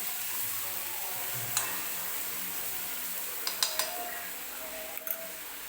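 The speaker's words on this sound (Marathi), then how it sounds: "व्यवस्थित मिरची भाजून घ्यायची आहे" Chillies roasting in a pan give off a faint, steady sizzle, broken by a few light clinks of a utensil against the metal.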